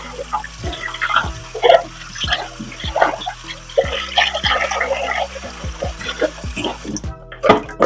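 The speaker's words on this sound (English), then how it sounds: "So I'm rinsing it off so I can do my mixed pepper." Water from a running tap splashes over a food processor part as it is rinsed, a steady wash of flowing water with uneven splashes and clunks against the sink throughout.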